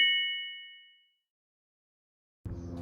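A single bright notification bell ding rings out and fades over about a second, followed by silence before other sound begins.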